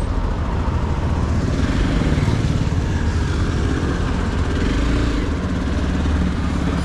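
A Hero Xpulse 200 motorcycle rides from city toward mountains, its engine giving a dense, continuous buzzing roar mixed with wind noise, steady and fairly loud throughout.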